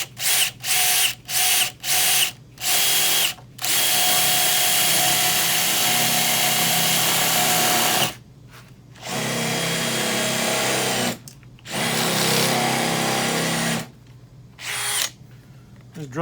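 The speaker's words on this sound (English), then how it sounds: "I know I need to drill about to the end of the spade bit here" A power drill driving a spade bit into a hardwood guitar body, several short loud bursts at first, then long sustained grinding runs broken by brief pauses, with the motor straining close up.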